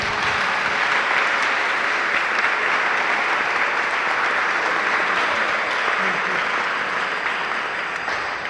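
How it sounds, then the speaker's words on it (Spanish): An audience applauds panel speakers at a conference on Puerto Rican governors, a dense, steady clapping from a roomful of people that stays loud and even throughout without any talk. "démosle un fuerte aplauso a nuestros ponentes"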